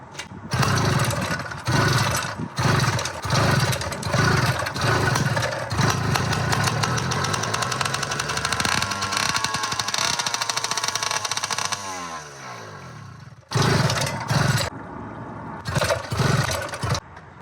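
A Minarelli engine on a motorized bicycle runs loud and close outdoors, revving in choppy bursts, holding a steady drone, then spinning down before firing up again in short sputtering blasts.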